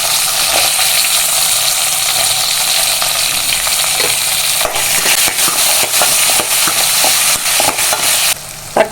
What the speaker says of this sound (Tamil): தக்காளி இதில் ஆட் பண்ணி வதக்கிக்கலாம்.